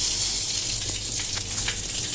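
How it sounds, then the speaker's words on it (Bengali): Steady tap water running into a bathroom basin while someone washes their face, a close, continuous broadband hiss with faint splashing, no voices. "এবার মুখটা ধুয়ে নিই।"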